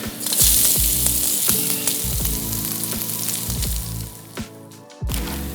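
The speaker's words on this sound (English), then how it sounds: "oil goes in, ginger, and the garlic" Garlic and ginger hit hot oil in a wok for a Chinese-style stir-fried celery and mushroom, giving a loud, steady sizzle and crackle that runs continuously, dips briefly near the end, then resumes.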